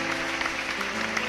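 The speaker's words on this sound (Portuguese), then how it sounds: "Vamos aplaudir o Senhor." A church congregation applauds together at a worship service, a steady dense clapping that fills the moment without pause, fairly loud and close, with no voices rising above it.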